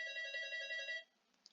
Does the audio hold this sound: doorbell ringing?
yes